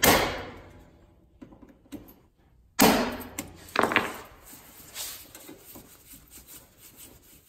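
Impact screwdriver struck with a hammer to break loose screws on a Yamaha Grizzly ATV front end, giving a few sharp metallic blows at separate moments, the loudest near the middle, with scraping and handling noise between.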